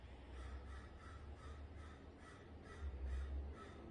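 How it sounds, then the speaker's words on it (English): Crows cawing outdoors, a series of regular caws repeating roughly every half second, faint and distant over a low steady background hum. "I don't know if you can hear the birds out there."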